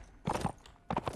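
Horse hooves clip-clop in Mount & Blade: Warband, two quick bursts of hoofbeats about half a second apart, fairly faint with nothing else over them.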